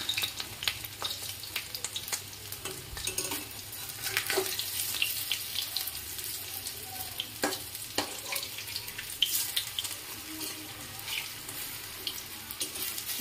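Bottle gourd koftas sizzle and crackle steadily in a shallow film of oil, a continuous close frying hiss with occasional sharper pops and soft stirring clinks, no voices.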